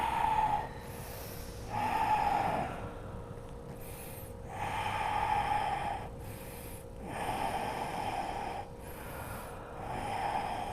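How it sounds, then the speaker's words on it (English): Deep, slow breaths during a yoga forward fold in a hamstring-focused class for runners, with about five loud inhale-exhale cycles that come in regular, close-miked waves and carry a strong, airy rush on each breath. "Take a big inhale and then fold down forward as you exhale."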